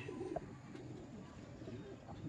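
A female grey pigeon from Kuwait coos softly among her flock, with brief low calls and faint chirps over a quiet background.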